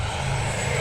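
An E-flite Viper 90mm electric ducted-fan RC jet at full throttle, a loud, steady, dense whoosh with a high whine, heard briefly and close.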